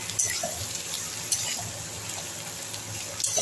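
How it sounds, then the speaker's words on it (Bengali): Boiled potato pieces fry with onion, tomato and capsicum in a pan, a continuous close hiss and crackle with a few small clatters of stirring and no speech. "আলুটাও আমি এইভাবে 5 মিনিট একটু ঢাকা দিয়ে ভেজে নিচ্ছি"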